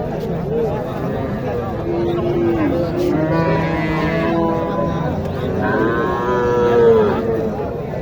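A cow moos repeatedly at a Bangladeshi cattle market in Naogaon, where Sahiwal bulls and calves are sold, with steady crowd babble and nearby voices underneath.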